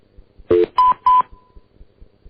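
Touch-tone telephone dialing to a cell phone: one lower tone followed by two higher beeps in quick succession, loud and clear, then silence.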